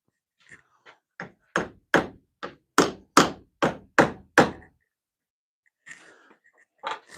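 A hammer strikes a Ford car part in a run of about ten sharp metallic knocks in steady rhythm, growing louder then stopping, followed after a pause by faint rustling and clatter.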